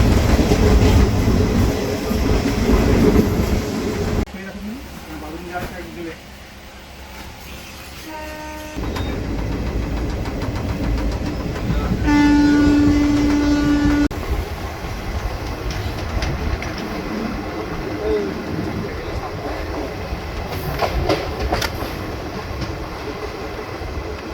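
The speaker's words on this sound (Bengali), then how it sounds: "মিনিট সময়ের আগেই আমাদের ট্রেন মোদাগ্রাম স্টেশন ছেড়ে বেরিয়ে গেছে" The Rani Siromoni Express rumbles along the tracks with steady clattering throughout, and a horn blares briefly midway; the noise dips for a few seconds before picking back up.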